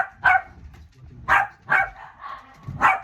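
A dog barks in a handful of loud, close, separate woofs spaced about a second apart, with quiet gaps and no talking between them.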